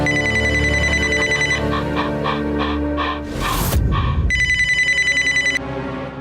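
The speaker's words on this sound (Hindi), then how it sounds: "अरे फोन उठाने दो ना, क्या पता माँ का जरूरी कॉल हो।" A telephone rings loudly with a bright electronic ringtone in two bursts, separated by a brief noisy rustle.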